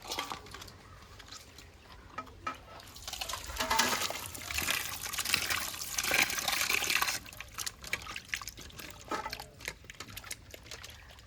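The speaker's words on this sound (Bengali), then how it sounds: "মাছগুলো এবারে ভালো করে ধুয়ে নেব।" Cut fish being washed by hand in a basin of water: splashing, sloshing and trickling that builds in the middle and tapers off into scattered drips and swishes, close and fairly loud.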